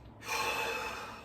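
A single deep inhalation taken during a relaxed stretching exercise, a soft airy rush that starts abruptly and is held steadily for about a second, close and fairly quiet with no talking.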